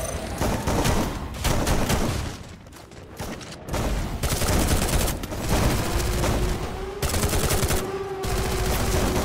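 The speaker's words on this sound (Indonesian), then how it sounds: "Chica mencoba untuk langsung melakukan tembakan" Rapid gunfire fills a Free Fire video game tournament match, dense overlapping volleys of shots continuing with a short lull and a faint tonal whine beneath.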